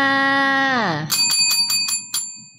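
A bell rings in a quick series of about six bright, clear strikes after a long sung or spoken tone slides downward, the chimes close and fairly loud.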